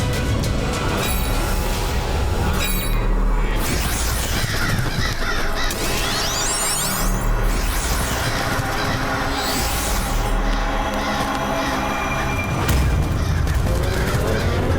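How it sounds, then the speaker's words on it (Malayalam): Many crows caw loudly and repeatedly close by, their harsh calls overlapping in a busy chorus over a dense, noisy background that continues without pause. "ഈ കാക്കകൾ മൊത്തം ഞങ്ങളുടെ പുറകെ വന്നുകൊണ്ടിരിക്കുകയാ."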